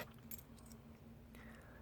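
A key from a lock-picking trainer kit is handled, giving a few light metallic jangles and clicks near the start and again later, close by with no talking.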